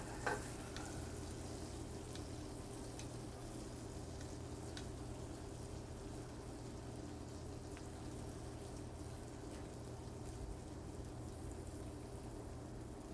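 Olives sautéing in a pan give off a steady, soft sizzle and frying crackle that runs unbroken throughout, close up and fairly quiet, with no voices.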